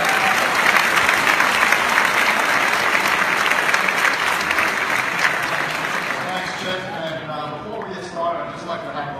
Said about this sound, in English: let's now give a great big round of applause to the CEO and President